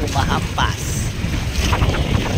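Big sea waves crash against a fishing boat off the Philippines, a loud, continuous wash of water and wind buffeting with a few splashes, and a voice talks now and then.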